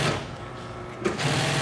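A sewing machine stitches golf cart seat upholstery, running loud and close in a steady whirring drone with a brief hitch in the middle.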